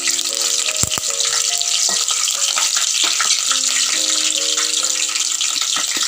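Dried red and green chilies sizzle in hot oil, tempering for an egg pulusu. A steady, loud frying hiss runs throughout with faint tonal sounds behind it, and no one talks.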